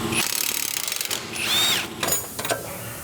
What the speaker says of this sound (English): Take off these two bolts for the absorber and then the one that goes to the subframe.